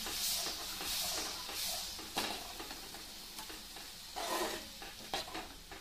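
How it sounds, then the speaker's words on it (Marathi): A Rajasthani kadhi mixture, whisked beforehand with a wooden churner, is poured into a kadai and stirred, giving repeated soft scraping swishes at a steady rhythm, close and fairly quiet, with a faint sizzle underneath. "सर्व मिश्रण एकत्र करून घ्यायचं आहे।"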